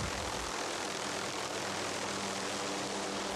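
Loud, continuous roar of a helicopter overhead, broadband engine noise with a low throbbing undertone, steady throughout.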